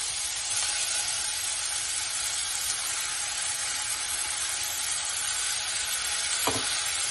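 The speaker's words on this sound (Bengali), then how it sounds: "একটু ভাজা হয়েছে, এর মধ্যে আমি এই পেস্ট করে রাখা মশলাটা দিয়ে দেবো।" Ground spice paste fries in a hot pan with onions for an omelette curry, giving a loud, steady sizzle and crackle that runs unbroken for several seconds, with no talking.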